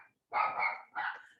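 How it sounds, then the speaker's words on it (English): A dog barks twice in quick succession during a quiet yoga class, clear and fairly close, with no talking over it. "A few doggy issues here with barking."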